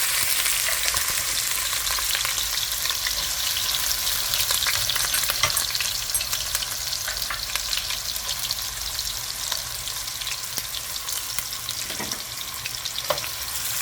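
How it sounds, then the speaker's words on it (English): Onion sizzles steadily in hot oil in a karahi, a loud continuous crackling hiss with occasional scrapes of stirring, no voices over it. "I'm going to throw the onion inside the fry"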